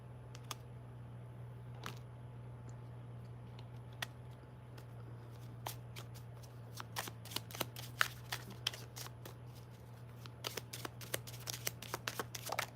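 A deck of cards is shuffled close by, with light riffling flicks that grow into quick clusters of crisp snaps over a steady low hum.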